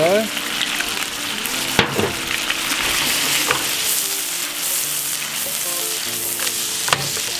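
Spicy beef stir fry sizzles steadily in a hot pan with oyster sauce, a loud continuous fry broken by a few sharp scrapes and clanks of stirring, with no talking.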